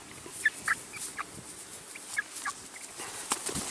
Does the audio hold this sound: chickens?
yes